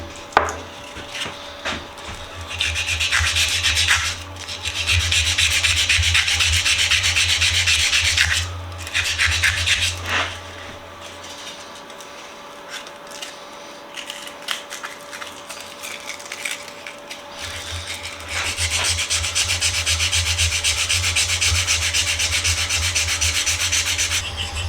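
Rough rhythmic sanding of an old metal tool with 150-grit abrasive and WD-40, a loud steady scrubbing that pauses briefly mid-way then resumes, with no talking.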